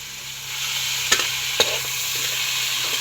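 Ingredients sautéing in a hot pan, a steady close sizzle and crackle throughout, with a couple of sharp clinks of a utensil against the pan.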